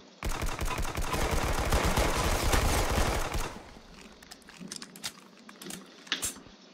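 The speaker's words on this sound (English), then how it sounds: "Tommy gun." Tommy gun fired in rapid sustained bursts during a 1v1 Arsenal video game match, a dense loud rattle for about three seconds, then a few scattered sharper shots.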